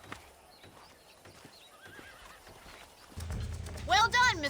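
In Red Dead Redemption, hooves clip-clop quietly before a horse being broken in lets out a loud, shaky whinny near the end, with faint voices in the background.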